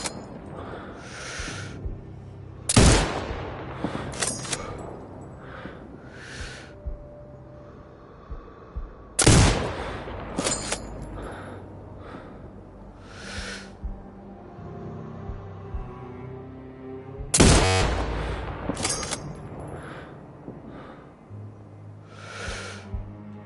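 Three loud sniper rifle shots ring out in the Ghost Recon video game, spaced several seconds apart, each a sharp crack with a short echoing tail and quick bolt-cycling clicks, over a low ambient hum.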